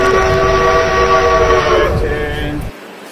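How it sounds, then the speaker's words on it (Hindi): Passenger train running from Vikasganj to Pilibhit pulls out of Raniganj railway station with a loud, sustained horn blast over heavy rumbling wheels, the horn cutting off near the end as the rumble fades. "विकासगंज से पीलीभीत पैसेंजर, रानीगंज से खुल चुकी है दोस्तों ट्रेन"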